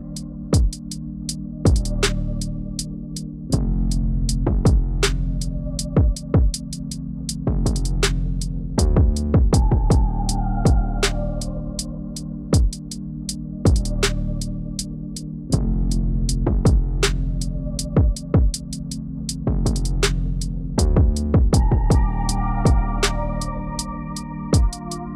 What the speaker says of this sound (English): So now we are just going to finish off our patch by placing the satin stitches around the design.